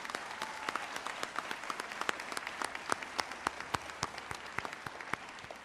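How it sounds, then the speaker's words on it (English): Applause from a crowded audience at an adult education graduation ceremony, many hands clapping in a dense steady patter with sharper individual claps standing out, heard from within the hall. "Let's give him another round of applause."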